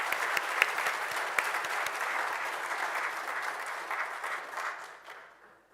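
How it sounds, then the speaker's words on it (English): Audience at an inaugural education lecture applauding the professor, dense continuous clapping with a few sharp nearby claps, fading out at the end. "I'd like to end off with a final hand clap for Prof."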